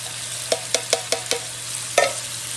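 Meat cooking in tomato sauce in a pan for an Italian Napolitana ragu, a soft simmering sizzle with five quick stirring scrapes in a row, then a pause and one more, close up and without talk.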